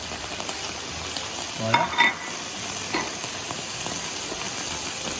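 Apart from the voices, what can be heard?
mushrooms sizzling as they cook in a pan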